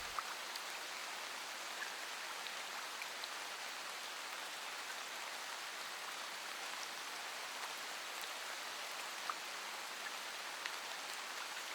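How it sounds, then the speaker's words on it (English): Sudden rain downpour over a field: steady, dense hiss of falling rain, soft and even, with no voices or other sounds. "this sudden downpour takes a young boy by surprise."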